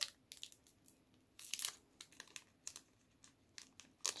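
A Japanese trading card booster pack wrapper is cut open with scissors, giving short irregular crinkles and crackles of thin plastic foil that come quietly and close in quick bursts.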